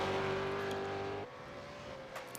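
A supercar races past at Phillip Island circuit, its loud engine note holding steady and then dropping in pitch as it passes, with the roar fading into a quieter drone afterward.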